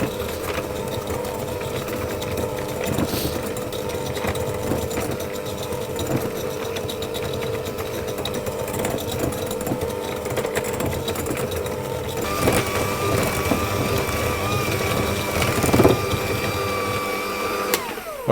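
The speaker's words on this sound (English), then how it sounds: "I'm going to do it with my trusty hand mixer" An electric hand mixer creams butter and sugar in a bowl, a loud steady motor whir lasting throughout with rattling beaters that shift in pitch partway through.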